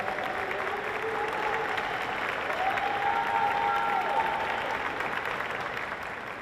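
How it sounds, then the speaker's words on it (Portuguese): An audience at a formal solemn session applauds steadily, a broad, continuous wash of clapping that swells slightly in the middle, with some faint voices and a tonal sound underneath. "Uma salva de palmas para ele."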